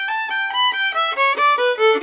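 Solo fiddle plays a short Durang's Hornpipe phrase using G naturals, a quick run of clear bowed notes stepping through the tune, close and alone with no talk.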